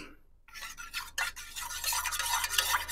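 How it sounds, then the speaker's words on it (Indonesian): A spoon scrapes and swirls through thick martabak batter in a bowl, stirring in a teaspoon of baking soda, soft rhythmic stirring strokes close up. "Kita aduk-aduk sampai larut"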